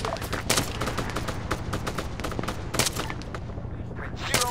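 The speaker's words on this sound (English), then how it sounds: "Enemy fire!" Enemy gunfire in the Arma 3 military shooter crackles in dense, rapid bursts of overlapping shots, some close and loud, others more distant, continuing without pause.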